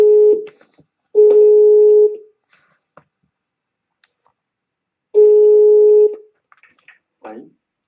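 A call being placed to the commercial section of the Chinese embassy: steady telephone ringback tones, each about a second long with long silent gaps between them, loud and close, with a few faint clicks.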